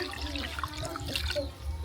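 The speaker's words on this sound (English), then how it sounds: "So I want to add drinking water on it." Drinking water is poured over bananas in a container for homemade banana wine, a short, quiet splashing trickle with bright gurgles and a faint background hum.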